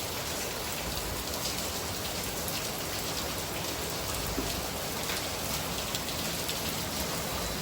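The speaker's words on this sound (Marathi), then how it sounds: "पावसाची स्पीड वाढली आहे" Steady, heavy monsoon rain falls at night in Mumbai, a dense and even hiss that stays constant throughout and carries no voices.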